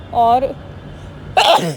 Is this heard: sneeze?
yes